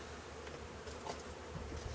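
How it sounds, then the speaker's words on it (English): Bees buzz steadily around a hive being extracted from a structure, making a soft, continuous drone that hangs in the background with little change in level. "But there's a lot of bees and all on it."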